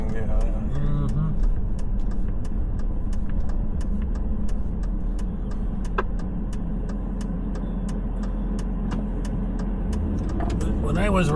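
Cars rolling through a campground in Minot, North Dakota make a steady, fairly loud engine and road rumble for the whole stretch, with people talking over it.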